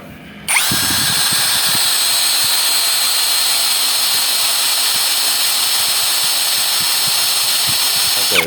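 A cordless battery drill spins up and runs continuously in its fast mode at around 1200 RPM, giving a loud, close, high-pitched whine that holds steady to the end with no talking.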